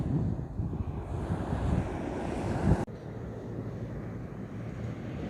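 Cold wind blows steadily outdoors at a campsite, a low rushing buffet on the microphone that swells and then drops abruptly, with no voices.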